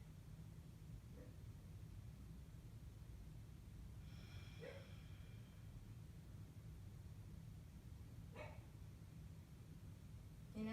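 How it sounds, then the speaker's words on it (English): During a quiet yoga relaxation session, a dog barks faintly and at a distance, about three separate times spread over a steady hushed background. "Inevitably, the dog will bark"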